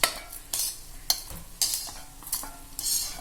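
Black pepper, cumin and coriander seeds fry in a pan, crackling and sizzling close by as a utensil scrapes and stirs them in short bursts, with no voices.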